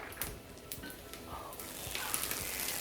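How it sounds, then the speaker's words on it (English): A soft, steady sizzle rises and thickens as cornbread batter is poured into a hot skillet, with faint clicks and crackles throughout. "we'll be quiet when I go to pour the cornbread, you definitely want a sizzle"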